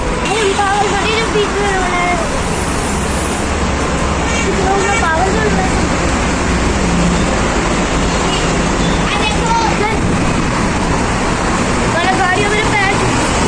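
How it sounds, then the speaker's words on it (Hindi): Loud, continuous roar of road traffic heard from a pedestrian footbridge over a busy road, a dense steady wash of engines and tyres with voices talking over it throughout. "इसके ऊपर ना बहुत तेज आवाजें आ रही है गाड़ियों की, बहुत तेज।"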